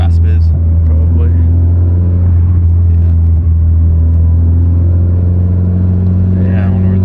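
A car engine with an exhaust manifold leak, a deep droning rumble with a raspy edge heard from inside the vehicle, loud and steady, with people talking over it.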